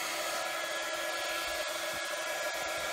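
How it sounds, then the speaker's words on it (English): A steady, breathy roar of a craft heat tool blowing hot air during card making, constant and unbroken, fairly quiet and close with no voices. "there's going to be a bit of noise now because the heat tool is going to go on"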